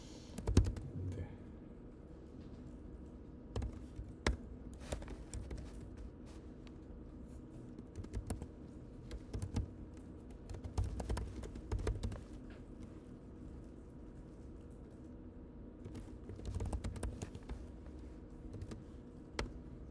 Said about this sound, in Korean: 저 안에 있는 대로 그냥 타이핑하고 있는 거예요 지금.